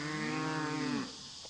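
A single close, drawn-out moo from cattle near a hay corral falls in pitch and lasts about a second before breaking off into quiet background noise.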